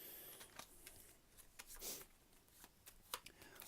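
Cards riffle and flick in a quick, quiet shuffle, with soft papery bursts and taps close by.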